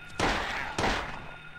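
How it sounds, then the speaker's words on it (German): Two muffled gunshots from the Silent Hill video game fire about half a second apart at a shooting enemy dog, fairly quiet, each leaving a short echoing tail. "der hat nur zwei Schuss gebraucht"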